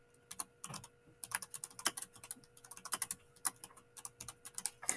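Someone types a phrase on a computer keyboard, with quick, crisp key clicks in uneven bursts and short pauses, close and fairly quiet, with a faint steady hum beneath and no talking.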